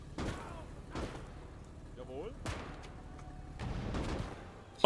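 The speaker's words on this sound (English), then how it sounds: "Oh, it blew up! Did you guys see that explosion?" Explosions and gunfire in the World War II strategy game Call to Arms: Gates of Hell, Wehrmacht conquest battle: several loud booming blasts and crackling bursts spaced through the scene, with a voice talking over them.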